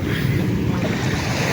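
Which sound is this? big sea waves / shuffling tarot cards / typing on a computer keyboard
big sea waves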